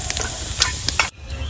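Cumin seeds hit hot mustard oil in a kadai with a loud, close, crackling sizzle and a few sharp pops, lasting about a second before it suddenly drops away.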